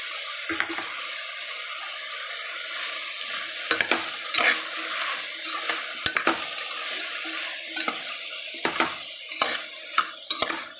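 Salted sambar in a large cooking pot is stirred with a ladle. Steady bubbling hiss carries repeated metallic clanks and scrapes against the pot, clustered irregularly toward the end.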